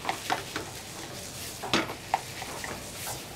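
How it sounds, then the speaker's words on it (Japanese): Rice for omurice, seasoned with salt and pepper, stir-fried over high heat, with soft sizzling and quick scraping strokes coming in short, uneven bursts and no voices. "で炒めていきます"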